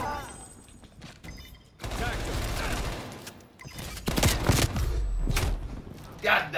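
Heavy shotgun blasts in Call of Duty Black Ops Cold War, several loud booming shots mixed with other battle gunfire, spaced a second or so apart, with a voice talking over them.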